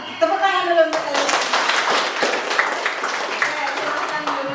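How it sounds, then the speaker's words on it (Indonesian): Schoolchildren in a classroom clap their hands together in a dense burst of rhythmic applause, close and lively, with a voice talking over the start. "Tepuk tangan dulu untuk kalian."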